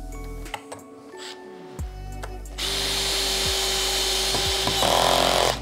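A power drill whirs in short bursts while driving screws into a wooden cabinet face frame, then runs in one longer, steady buzzing stretch, close and loud.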